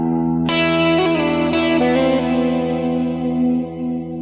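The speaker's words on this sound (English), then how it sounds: "I'll add a little delay and reverb." Electric guitar solo played with delay and reverb, a few sustained picked notes ringing out with echoing repeats and a long washy tail, played alone.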